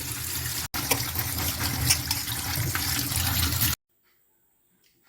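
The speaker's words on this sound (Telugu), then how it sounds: "ఇలా చిల్లులు బొట్టులో వేసుకుని బాగా పచ్చిమిర్చిని వాష్ చేసుకోవాలి." Green chillies are washed under running water in a perforated vessel, a steady close splashing and trickling that briefly cuts out, then resumes and stops abruptly into silence.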